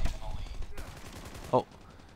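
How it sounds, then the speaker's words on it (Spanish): Gunfire in the mobile shooter Call of Duty Mobile, a burst of rapid shots and a sharp weapon report amid game noise, with a voice talking over it. "Oh, saca disparos."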